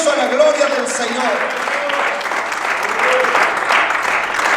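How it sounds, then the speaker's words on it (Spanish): Church congregation applauding in praise, a full, steady round of clapping with voices cheering and calling out over it throughout. "Fuerte el aplauso a la gloria del Señor."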